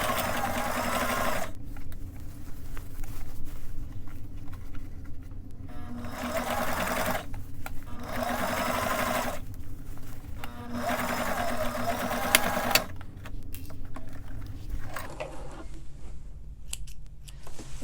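A sewing machine stitches a suit jacket lining in several bursts of rapid whirring, separated by short pauses, close up and without talking.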